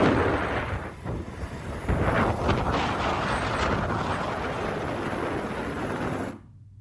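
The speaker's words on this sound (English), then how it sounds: "Kind of windy. In fact, it's very windy." Strong wind roars and buffets the microphone in continuous loud gusts, then cuts off abruptly near the end.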